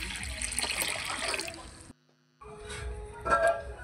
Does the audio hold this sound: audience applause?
no